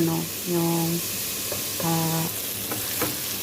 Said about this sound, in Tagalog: At mag-brown na yung chicken guys, at saka yung onion